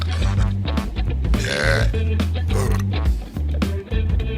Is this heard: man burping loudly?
yes